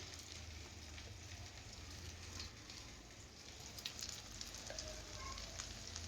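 Onions added to a hot pan for dhaba-style egg rice, giving a continuous faint frying sizzle with a crackling, rain-like texture throughout.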